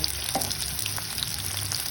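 Potatoes fry in hot oil with salt for an okra and potato curry, a steady close sizzle with light crackles and faint stirring throughout.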